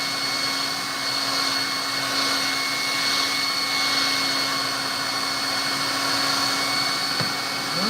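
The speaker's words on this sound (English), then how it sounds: "I have to go ahead and just blow dry this thing" Hair dryer blows steadily and loudly over a kids' art project, a constant whooshing whine that holds the whole time and cuts off near the end.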